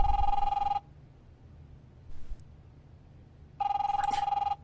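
An old-style telephone rings in The Wolf Among Us video game, two bursts of rapid electric bell trilling separated by a quiet pause with a faint sound in between, fairly close and clear.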